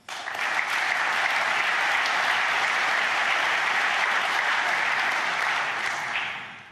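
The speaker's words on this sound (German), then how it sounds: "Applaus" Sustained audience applause at a formal ceremony marking the 25th anniversary of the DBU, a steady dense wash of clapping from a large crowd that swells in quickly and tapers at the end, with no talking over it.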